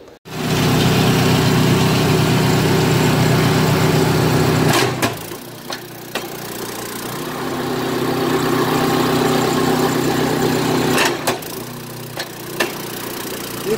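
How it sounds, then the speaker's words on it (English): A PowerKing kinetic log splitter with ABS runs with a steady engine idle, its ram driven into an irregularly placed log, with sharp jolts and knocks breaking through the continuous motor drone. "We're going to be purposely jamming the ram"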